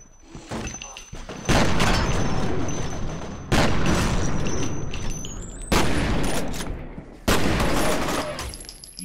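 Four loud, close shotgun blasts ring out in the F.E.A.R. video game, spaced about two seconds apart. Each sharp crack is followed by a long, rumbling decay.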